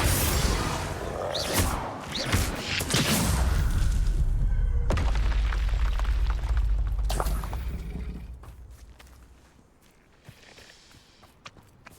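Bombarda blasting spell in Hogwarts Legacy bursting with a heavy, booming impact and thuds over several seconds, then fading to quieter scattered knocks and debris.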